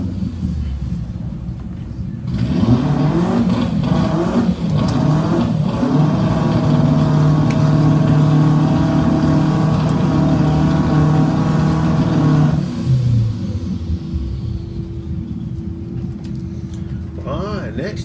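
Drag racing cars launch and accelerate hard down the strip at a Volkswagen GTI festival, a loud engine roar rising and sustained for about ten seconds before fading, with a commentator talking over it.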